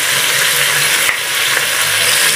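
Crab claws frying in a pan for a crab stew, giving a steady, close, dense sizzle with some stirring and no talking.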